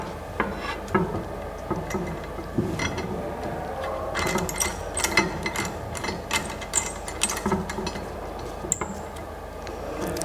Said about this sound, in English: I fix the metallic clamp on my condenser first, at the middle of my condenser.